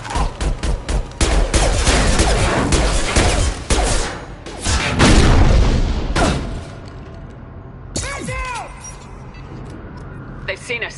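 Rapid, loud bursts of gunfire crackle through a firefight in Mass Effect Legendary, in dense volleys with brief pauses. Someone shouts over the shooting near the end.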